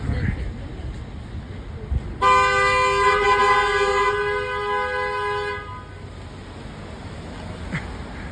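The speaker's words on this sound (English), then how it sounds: "And they're honking." Car horns honk on a busy street near the Brooklyn Bridge, with one long, loud, sustained blast lasting several seconds over city street noise, framed by fainter traffic sounds before and after.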